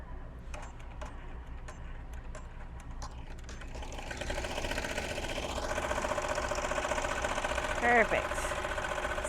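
A Melco Bravo quilting machine stitches steadily, its fast mechanical whir rising and settling into a continuous rhythmic drone after a few seconds of quieter ticking, with brief speech over it.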